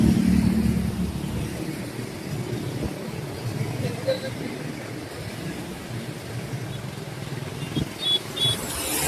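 Cars and motorcycles pass along a street during a Republic Day rally, a continuous wash of engine noise with occasional revving, heard at a moderate distance under people talking.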